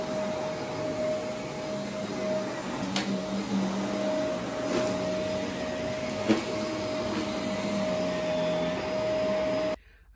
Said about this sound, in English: Well, I'm about to vacuum.